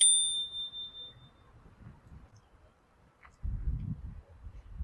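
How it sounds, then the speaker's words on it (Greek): A bell on an electric scooter rings out once with a sharp, bright ding near the start and fades over about a second. Quiet handling noise and a low rumble follow. "Εδώ έχουμε και ένα κουδούνι."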